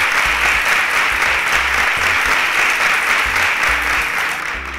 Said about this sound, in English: Ladies and gentlemen, a round of applause for Oremei Aka.